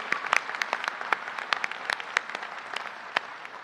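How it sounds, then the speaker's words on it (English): Audience applause at a law school commencement ceremony: a crowd claps steadily with distinct sharp individual claps standing out, heard from a distance and fairly quiet, without speech. "Professor Janine Taranto, sure, clap."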